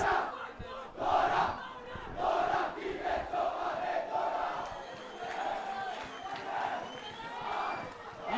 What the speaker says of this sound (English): So the crowd is really ecstatic now, motivating their players.